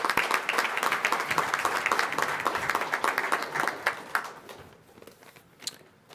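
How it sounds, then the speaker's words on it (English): Audience applause at a medical honor society induction ceremony in Chicago, dense clapping that holds steady, then thins out into scattered final claps and fades near the end. "So please give her a round of applause."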